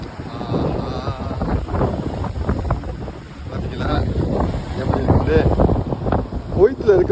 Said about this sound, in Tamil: இன்னைக்கு வந்து ஏதோ காற்று ரொம்ப அதிகமாக இருக்குது கடலில்